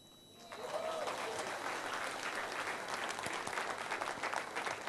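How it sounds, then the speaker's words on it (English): Audience at a national HR convention breaking into sustained applause, a dense steady clatter of many hands clapping in a large hall, starting after a brief quiet moment and holding strongly throughout. "let's give a big round of applause to the most amazing example of humility I can see today here"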